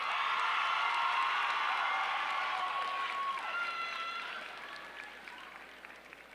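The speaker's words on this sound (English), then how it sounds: "Can we give the graduates one more round of applause?" Applause and a few whoops greet graduates at a university commencement ceremony, heard as a large crowd clapping that starts full and gradually fades, with faint voices mixed in.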